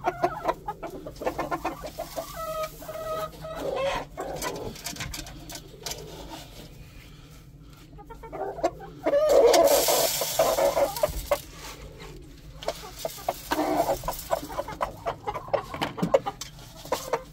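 Chickens cluck and chatter close by in a busy, uneven stream, with a louder flurry of squawking midway through.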